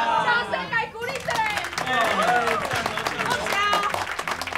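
Applause from a small group gathered around a meal, a dense patter of clapping mixed with cheerful overlapping voices and chatter throughout.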